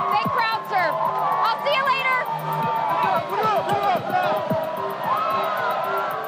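Football fans cheering after a touchdown, a busy crowd of shouts, whoops and high excited voices, close and lively with no pause.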